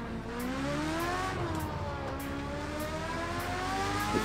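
A racing car engine in Project Cars 2 revs and accelerates, its buzzing harmonic drone rising and dipping in pitch through gear changes, held close and continuous, with faint regular ticking above it.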